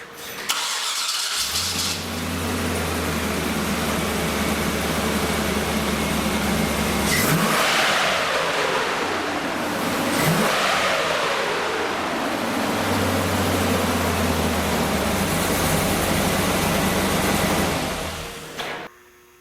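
A 1999 to 2007 Chevrolet Silverado truck with its stock exhaust cranks and starts, settling into a steady idle with a couple of revs, the engine close and loud before it shuts off near the end.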